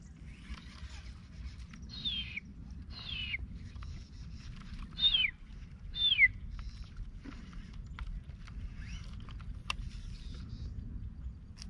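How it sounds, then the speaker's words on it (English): A series of short, descending owl calls repeats at uneven intervals over a low outdoor rumble, a couple of them louder and closer. "Oh, it's our owl bud."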